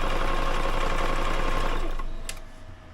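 A sewing machine runs fast and steadily over a shoulder seam, its dense rapid stitching buzz close and loud before it slows and stops near the end.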